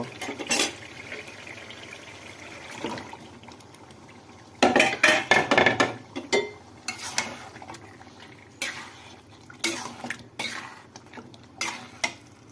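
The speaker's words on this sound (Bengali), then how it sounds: "একটু নাড়াচাড়া করে দিলাম। এখন গরুর গোস্তগুলো আমি ঢেকে দেব।" Beef cooking in a pot with fried spices is stirred with a metal utensil, giving a run of close scraping and clinking strokes in bursts over a soft sizzling background, with no voices.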